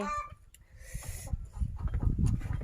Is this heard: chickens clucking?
yes